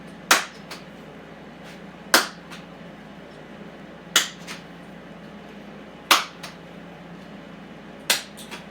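Single sharp hand claps land at a steady pace about every two seconds while a beanbag is tossed and caught, each clap crisp and close, with a softer catch following, over a quiet background.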